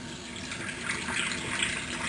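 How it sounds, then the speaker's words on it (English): Tap water runs in a steady, even hiss while a hair brush is rinsed out. The flow is close and continuous and slightly rises, with no voices. "you probably want to rinse this brush out before it gets like really bad and yucky and yolky and sticky"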